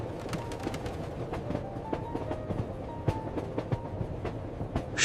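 Train running in a horror cartoon, a steady rumbling ride with repeated clicking rail knocks and faint high squeals, moderately loud and continuous throughout.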